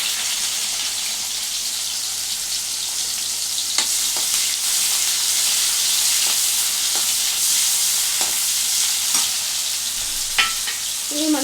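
A medium chopped onion frying in a pan makes a loud, steady sizzle that runs throughout, with occasional light clicks of stirring close by. No one speaks.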